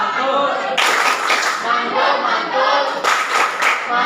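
A group claps together in a quick rhythmic pattern, loud and close, with brief pauses between bursts of clapping.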